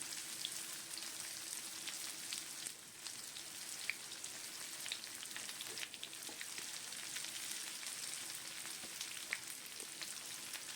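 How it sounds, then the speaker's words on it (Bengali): Three medium onions, chopped, frying in oil with whole garam masala and bay leaf for Bengali chicken kasha. The sizzle is soft, steady and crackling, with faint occasional pops and no voices. "এবার পেঁয়াজটা একটু লালচে লালচে করে ভেজে নিতে হবে"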